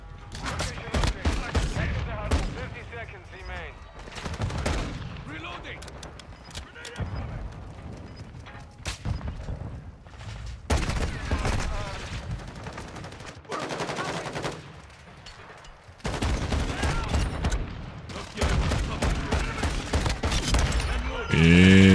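Rapid gunfire from the Call of Duty: Modern Warfare 2 Xbox game crackles in dense automatic bursts with short lulls, loud and up front, while voices speak over the shooting.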